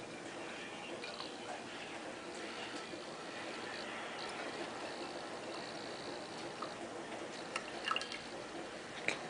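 Hot water trickles and drips through a coffee dripper, a faint, steady liquid patter that stays quiet and close throughout, with a few slightly sharper drips near the end.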